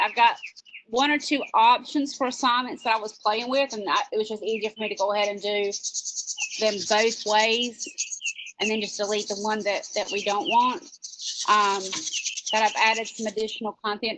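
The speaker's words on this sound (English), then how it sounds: "I apologize for the loud birds, but I'm not too far from a bird nest" A wren near its nest sings repeated high, rapid trills close by, breaking in several times while a person talks steadily over it.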